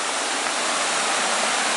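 A waterfall along Oregon's Eagle Creek Trail near Tunnel Falls roars in a steady, loud broadband rush, continuous and unbroken with no voices.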